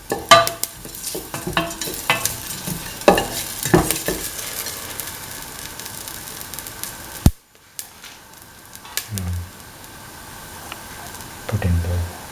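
Fennel seeds sizzle in hot oil in a pan while a spoon scrapes and stirs them, loud and close, then a sudden break before softer sizzling and occasional stirring resume.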